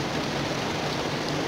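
Heavy rain pours on a riverbank at a fishing spot, a loud, dense and steady broadband hiss that fills the whole moment without pause or voices.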